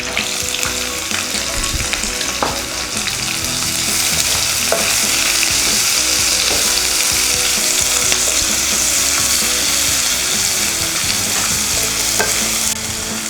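Onions frying in a pan for vegetable kurma, a loud, dense, continuous sizzle close by with frequent spatula scrapes and clicks from constant stirring.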